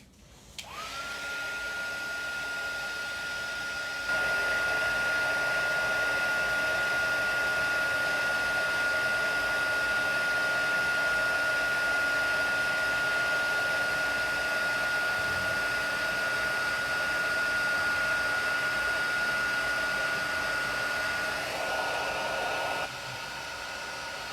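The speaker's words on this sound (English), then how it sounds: "I'm gonna grab my heat tool." A heat tool blows a continuous, loud whooshing hum with a steady whine while setting clear embossing powder, running for about twenty seconds before cutting out.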